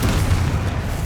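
A Confringo fire spell blast in the video game Hogwarts Legacy, one heavy booming rumble that fills the short moment, loud and close.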